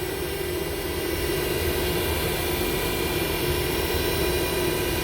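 A Haas VF-2SS CNC vertical machining center, new in 2020, spins its spindle at high RPM, giving a steady, loud whine and broadband whir that holds even throughout with no talk.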